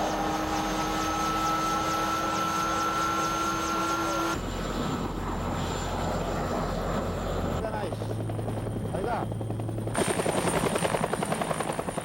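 An Air Force search-and-rescue helicopter starts up, its engine whine and turbine tones stepping up in stages into a loud, steady roar with rising rotor chop, close by and continuous.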